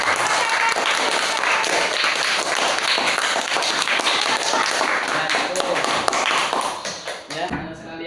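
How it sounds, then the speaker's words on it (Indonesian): Students in a classroom clap loudly and continuously for a presentation, a dense roomful of hands sustained for about seven seconds before tapering off abruptly at the end. "Kita kasih tepuk tangan buat yang menyampaikan presentasi dan yang menyampaikan kesimpulan."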